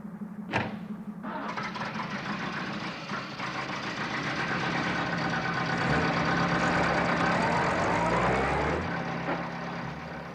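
The Antelope Gnu car's engine running steadily, a dense low rumble with a rattling, knocking texture that swells slightly midway, close and continuous with no talk.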